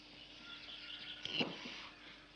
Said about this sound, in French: on entend ces petits oiseaux